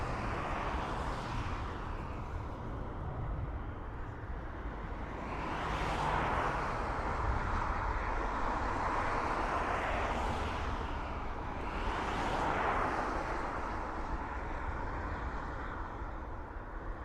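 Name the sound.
Emirates airliner passing at Dublin Airport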